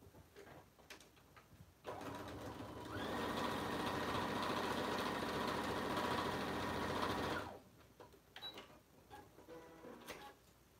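A sewing machine stitching fabric for a bag whirs into a steady, loud run for about five seconds, then stops, with quieter handling rustles and clicks before and after.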